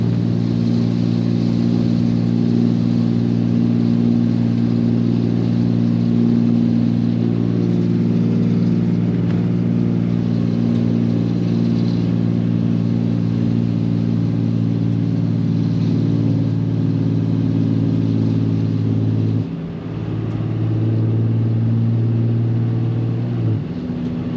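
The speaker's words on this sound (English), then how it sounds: "Just letting the engine brake do its thing." A large engine drones at a steady low rumble while the vehicle rolls downhill under engine braking, with a brief dip and shift in pitch near the end.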